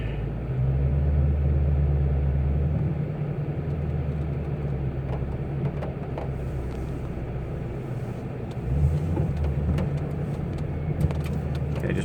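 A Ford Mustang GT350 creeps through snow in weather mode, a low engine rumble and road noise steady and close, dipping as the car slows under light braking and then swelling again; no one talks.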